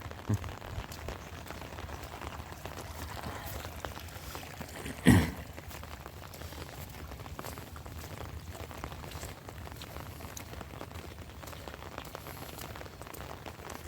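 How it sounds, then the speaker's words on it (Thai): Rain falls steadily over flooded rice fields, a soft, even hiss of drops on water heard from close by, broken once by a single dull knock. "ฝนตกตลอดเลยเรื่อยบ่ได้ตกนะทุกคนนะ"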